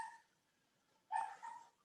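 Puppies give a short yelp right at the start, then after a quiet gap a louder burst of two or three quick barks or yips rings out close by, with no talk.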